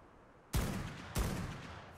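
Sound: gunshots, from video game ARK: Scorched Earth Ascended

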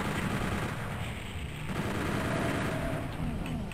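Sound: chain gun firing in video game Doom 64

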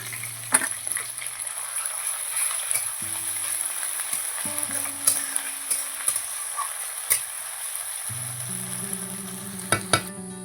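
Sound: onion paste frying and being stirred in a pan

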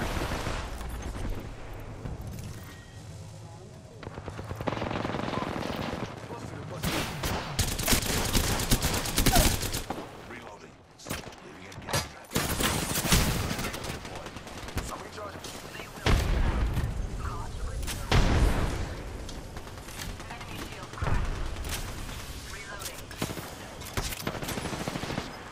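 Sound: gunfire in a video game

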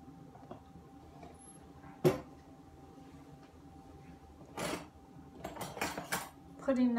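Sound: putting knives away

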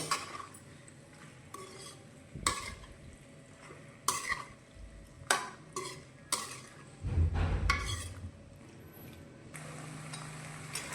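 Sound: stirring pasta with added cornflour in a pan

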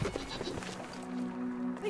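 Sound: goats bleating in video game Brothers: A Tale of Two Sons

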